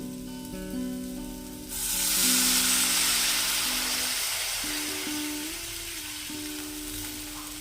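Singi fish frying in a pan for a green banana curry, with a bright, steady sizzle that bursts in loudly after a quiet start and then holds with a soft stirring texture, alongside faint background music.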